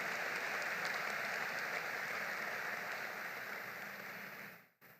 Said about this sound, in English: Y'all clap loudly for yourselves.